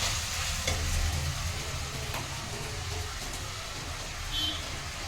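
Mutton heart gravy frying in oil while being stirred, a steady dense sizzle with occasional scraping, close and continuous throughout.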